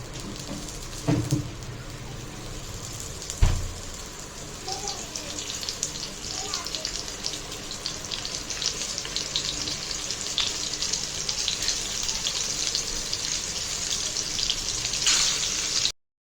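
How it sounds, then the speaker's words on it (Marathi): Steady oil sizzle from stuffed bitter gourd frying in a pan, continuous crackling with a couple of louder knocks near the start. "आपण कारली फ्राय करून घेऊया"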